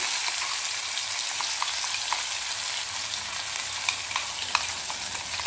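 Onion and coconut paste fries over low heat in a pan, giving a steady, close, even sizzle with faint scattered crackles throughout and no talking.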